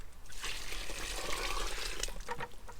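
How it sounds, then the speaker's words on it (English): Fermented water from an old batch is poured over chicken feed in a container, giving a steady close trickle and splash of liquid for nearly three seconds with no talking. "And I'm going to pour. Here's some of the old water,"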